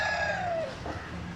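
Village chickens on a Marathi farm, a loud, close rooster crow that trails off into a fainter cluck and low background noise, with no voices.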